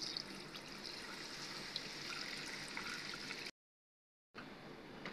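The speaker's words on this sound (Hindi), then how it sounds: "तो अब इसमें जाएगा पानी तकरीबन 4 से 5 गिलास" Water, about four to five glasses, is poured steadily into a pot of beef nihari, a soft continuous splashing trickle that stops abruptly and then briefly resumes.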